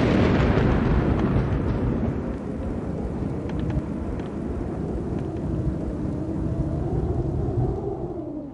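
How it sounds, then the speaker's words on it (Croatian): Distant thunder for a sound installation of a stage play, set by an open terrace: a continuous deep rolling rumble that stays loud and broad throughout, with no voices. "Udaljeni grmljavina."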